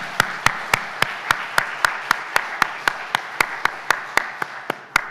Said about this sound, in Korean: 크게 영광의 박수를 올려드리겠습니다